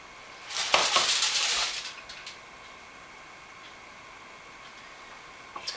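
A cast-iron skillet is handled as it comes out of the oven, with a cluster of clanks and scraping metal early on, then a quiet background hum and a faint clink at the very end.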